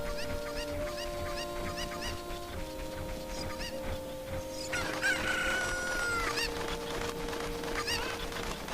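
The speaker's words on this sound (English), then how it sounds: "Their clucking is a bit annoying," Cuckoos from The Legend of Zelda: Ocarina of Time cluck and crow as chicken-like game sound effects, mixing steady honking tones and brisk repeated calls against background game music, with no talk.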